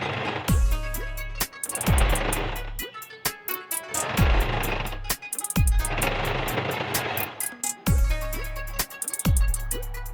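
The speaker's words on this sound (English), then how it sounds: "I am securing everything with a top stitch." A sewing machine top stitches fabric in bursts of fast, steady mechanical whirring, each run starting with a low motor surge and ending in short pauses, close and clear with no talk.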